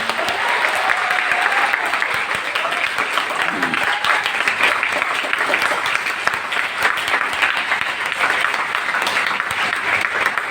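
Dense, steady applause from an audience at a motivational talk in Patna, Bihar, honoring a teacher, sustained throughout with a crowd's broad wash and faint voices mixed underneath.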